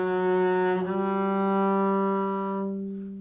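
A double bass sustaining a single bowed high G harmonic, steady and ringing with a clear fundamental and overtones, one held tone lasting about three seconds before fading, alone with no talk.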